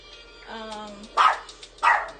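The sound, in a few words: chihuahua barking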